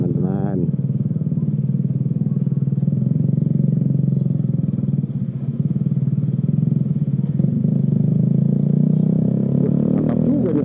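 An old Suzuki Shogun 125 motorcycle, freshly serviced, revs and pulls with a steady mid-pitched engine drone throughout, loud and close, with someone speaking over it.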